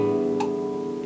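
Acoustic guitar strings left ringing openly without left-hand muting, a steady sustained chordal drone that hangs alone at moderate level with a faint brief overtone flick partway through.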